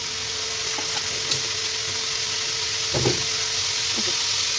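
Cinnamon tempering spits in hot oil left from lightly frying chicken: a steady close hiss of frying with occasional soft pops and light clinks, no voices.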